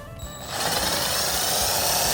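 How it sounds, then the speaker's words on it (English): A power drill spins up and grinds steadily through a car's metal trunk lid on a Toyota Corolla Hatchback, a loud continuous whine with gritty rumble after a brief quiet start. "you're gonna try to drill perpendicular with the surface"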